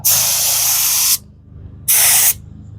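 Epoxy coating is sprayed onto a one-ton truck bed in two loud, close hissing bursts, a long one of about a second and a shorter one after a brief pause, with no talk.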